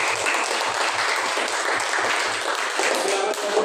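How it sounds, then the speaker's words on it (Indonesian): A classroom audience applauds after a group presentation closes, a dense, steady wash of many hands clapping throughout, loud and continuous with no break. "Ya, boleh tepuk tangan aku satu."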